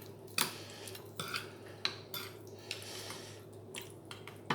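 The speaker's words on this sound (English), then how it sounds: "So we mix all that together nicely" Lamb chops being tossed with yogurt, herbs and spices in a bowl for a masala-style marinade, giving soft wet squelches and occasional clinks of a utensil against the bowl, faint and close.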